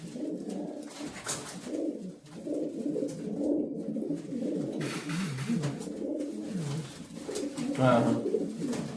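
Racing pigeons coo in a loft, their low rolling calls repeating and overlapping steadily at close range, with someone talking faintly in the background.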